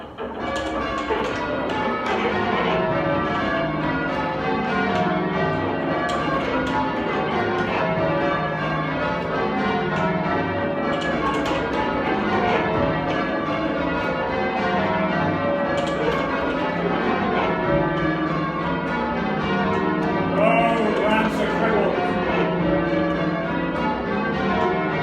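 A continuous peal of church bells in Aldgate, London, many tones overlapping in a dense, steady clangour, loud and close throughout with no talking.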